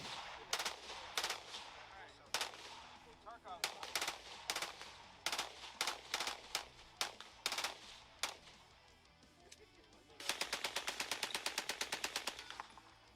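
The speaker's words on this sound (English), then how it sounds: "What is that, an MP40?" Automatic gunfire from an MP40 submachine gun in Escape from Tarkov: several short bursts of rapid shots with pauses between them, then a longer sustained burst near the end, sharp and prominent.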